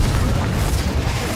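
A Bombarda spell blast in the Hogwarts Legacy video game, a dense, continuous low booming rumble that stays loud throughout the short moment without a clear single onset.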